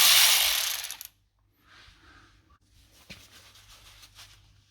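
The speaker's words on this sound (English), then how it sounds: "I'll see if I can use it with my little ratchet." A small hand ratchet turns and clicks as it loosens a T30 Torx caliper guide pin during rear brake pad and rotor work on a Mercedes-Benz ML W166, with a loud burst of rapid clicking first, then quieter, sparser clicks.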